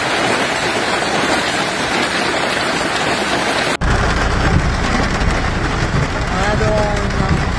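Heavy rain and hail lash down during a severe storm in the Catalan Pyrenees, a loud dense roar that cuts abruptly to another downpour scene where a voice is heard.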